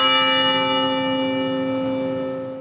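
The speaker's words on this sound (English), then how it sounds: "bell tower tolled at 1:02 this afternoon to begin a campus-wide moment of silence" A single deep toll from a campus bell tower rings out and hangs in the air, its rich humming overtones slowly decaying over a few seconds.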